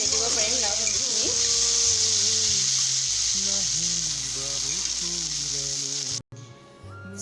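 Bottle gourd fries in a pan at home with a constant loud sizzle, while a voice talks over it throughout; the sizzle cuts out briefly near the end.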